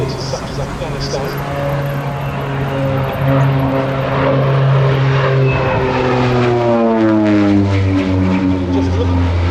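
A North American OV-10B Bronco twin-propeller aircraft in a flying display at an air race day, its loud droning engines and propeller buzz shifting in pitch as it passes, with someone talking over the roar.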